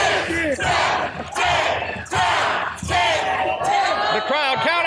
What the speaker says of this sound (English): The crowd counting along, and here they get number 10